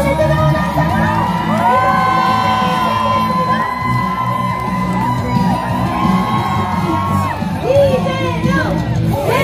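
A crowd at an outdoor political rally near Bupyeong Station cheers and whoops for a presidential candidate, loud and continuous, with shouts, yells and voices rising and falling over a dense roar.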